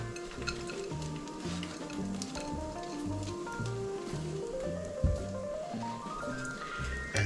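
An egg cooks in a pan with a faint, continuous sizzle and occasional light clinks, set under background music with a rhythmic melody.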